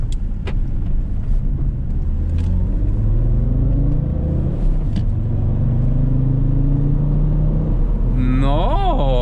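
Alfa Romeo 159 2.4 JTDm diesel car accelerating on a motorway, a loud steady in-cabin engine and road rumble with rising tone, and a brief voice near the end.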